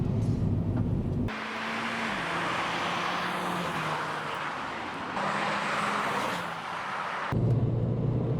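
A Renault Clio RS engine revs under throttle on a slippery surface, with two sustained rising surges separated by a steadier drone and idle at either end.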